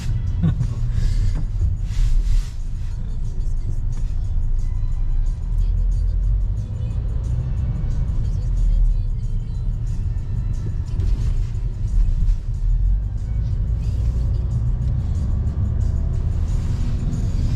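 Steady, loud low road rumble of a car driving on a highway out of Moscow, Russia, heard from inside the cabin at the front passenger seat, with engine whir and tyre noise running continuously.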